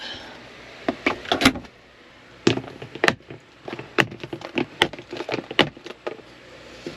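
A series of sharp wooden knocks and clatters, irregular and close, as a pantry door is handled and swung open.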